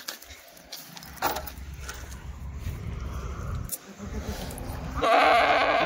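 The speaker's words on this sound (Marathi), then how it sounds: "ती बकरी" Kathiyawadi goats bleating at a goat sale, the calls rising over steady chatter from people nearby and growing louder toward the end.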